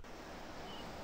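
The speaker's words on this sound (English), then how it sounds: "I hear an ocean nearby or like a lake of some sort." Ocean or lake water ambience in RuneScape 3, a faint, steady wash of surf with a soft airy hiss, even and unbroken, heard alone.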